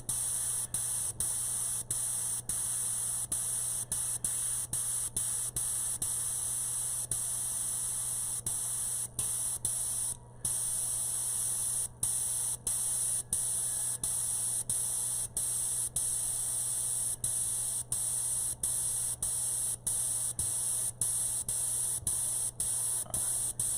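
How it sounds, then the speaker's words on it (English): A steady airy hiss of candy apple red paint spray runs continuously over a low electrical hum, broken by regular brief clicks and one short pause. "this is the candy apple red that I'm spraying right now"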